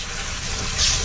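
Water runs through a hose into a small RV laundry machine, a steady broadband rush and gush that swells slightly toward the end of the short stretch.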